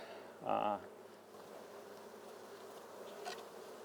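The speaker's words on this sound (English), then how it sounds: "I can hear the bees getting a little bit more throaty." Faint low buzzing of honey bees inside an open hive in a quiet space, with a brief louder hum swelling near the start before settling back to a soft drone.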